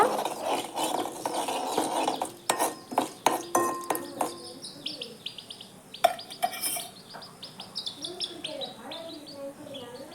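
Coriander seeds, chana dal, urad dal, black pepper and cumin dry-roast in a pan for a ridge gourd peel thuvaiyal. A spoon scrapes and clinks against the pan in bursts, and birds chirp steadily in the background.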